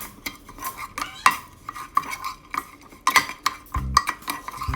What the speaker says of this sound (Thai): คลุกเคล้าให้เข้ากันค่ะ